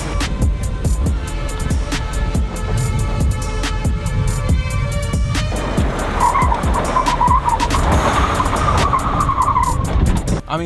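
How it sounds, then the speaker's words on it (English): A stock pickup truck driving off-road over rough, bumpy ground, with a steady loud rumble and rattling, clattering thumps from the body and suspension throughout, no talking. "going over bumps in this truck isn't particularly fun"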